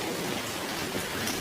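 Heavy rain pours in a steady, dense hiss during a thunderstorm, with no voices.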